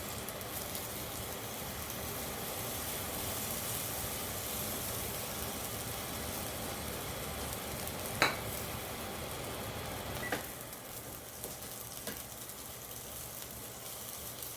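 Food frying in canola oil in a pan, a steady, fairly loud hiss and crackle that runs throughout with a couple of brief clicks, and no talking.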